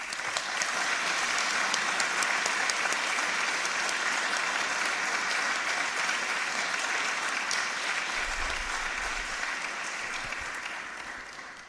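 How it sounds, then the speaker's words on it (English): Sustained audience applause for the interpreters at a democracy school conference, an even wash of many hands clapping at moderate level throughout, fading out at the very end. "we'll ask you a big applause for them"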